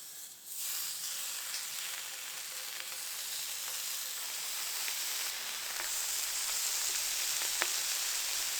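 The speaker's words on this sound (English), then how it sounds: "I'm also gonna cook up some turkey bacon that I brought along" Turkey bacon cooks directly on top of a wood stove at a wilderness camp, making a steady, bright sizzling hiss that holds evenly for several seconds with faint crackles and one small pop.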